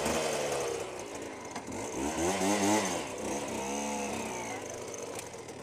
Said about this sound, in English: Can't even get my bike started now.